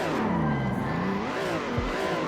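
Drifting car in the Assetto Corsa racing game with clutch kicking, an engine roaring loud and continuous with pitch swinging up and down as revs rise and fall, plus tire noise.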